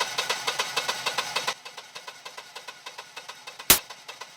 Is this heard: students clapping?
no